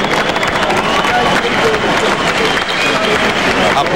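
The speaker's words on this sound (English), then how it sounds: "Applause in the ring for Wilfredo Vasquez" A boxing arena crowd applauds after the Prince Naseem Hamed vs Wilfredo Vasquez fight, loud sustained clapping and cheering filling the space, while a commentator speaks over the din.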